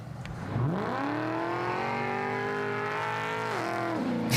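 A car engine revs up and holds a strong, steady drone as the car drives, with a gear change near the end producing a brief dip and rise in pitch; no voices are present.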